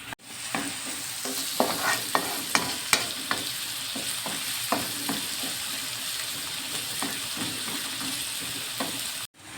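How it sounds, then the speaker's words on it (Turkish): Chopped onions sauté for a garlic cream pasta, giving a steady close sizzle with repeated scraping stirs from a utensil through the pan, and no talking over it. "Soğanlarımız güzelce pembeleşene kadar kavurmaya devam edelim."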